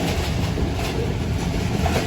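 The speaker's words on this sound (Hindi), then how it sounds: "साइयाँ वाला से हम लोग स्किप कर रहे हैं और जो हमारी अपकमिंग मंजिल है वो सांगला हिल जंक्शन रेलवे स्टेशन है।" Ghouri Express passenger train rolling on the rails between Faisalabad and Lahore toward Sangla Hill Junction, a steady, loud, continuous rumble and rattle of wheels and carriages with no voices.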